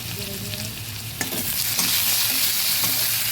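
Catla fish pieces seasoned with salt and turmeric fry in hot oil with a bright, steady sizzle, broken by a few scraping stirs of the spatula.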